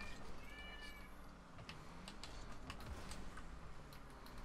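A pet cat meows briefly near a computer while keyboard typing and clicking tick away steadily in the background.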